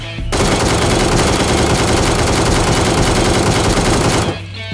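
The ACE32 assault rifle in PUBG Mobile fires one loud, continuous full-auto burst lasting about four seconds, then stops abruptly.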